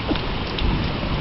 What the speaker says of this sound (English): Look at the bright it is out there, and it is just, hear the thunder?